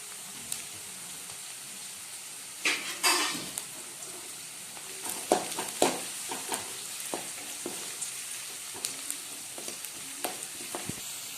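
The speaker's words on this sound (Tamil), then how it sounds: "கருவேப்பிலை. வெங்காயம் வதங்கட்டும்." Onions and curry leaves sauté in a pan for a banana flower thoran, a quiet steady sizzle broken by scattered spoon scrapes and light clicks against the pan, with no talk.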